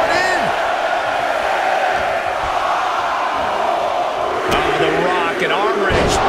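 A large arena crowd in the WWE 2K24 wrestling video game roars continuously during a Royal Rumble match, with loud chanting and shouts rising near the end.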